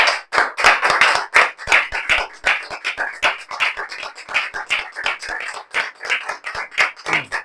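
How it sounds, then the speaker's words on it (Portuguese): A church congregation claps together during a worship service, a dense run of sharp hand claps with uneven rhythm filling the room, loud and close, with no talking over it. "Aplauda ao Senhor nesse momento."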